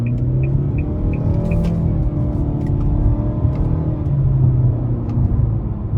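A 2024 Nissan Altima SR with a CVT, in sport mode and first gear via paddle shifters, pulls out of a corner with a loud, steady engine drone and road rumble, joined by a few faint high chirps early on.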